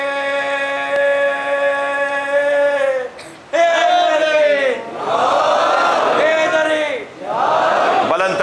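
A large crowd at a Muharram gathering in an imambargah in Kharadar loudly chants religious slogans in unison, with sustained voiced shouts broken by short pauses and swelling again.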